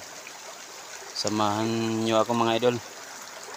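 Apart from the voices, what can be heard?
river stream flowing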